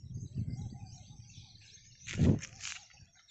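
Birds call over a rice paddy field in the countryside: a few soft chirps at first, then one louder, sharper call and some fainter calls after it, against quiet open air.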